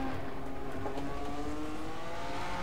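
A Ferrari 312 race car engine in rFactor 2 drones steadily at high revs, loud and close, with a constant harmonic whine and no pauses throughout.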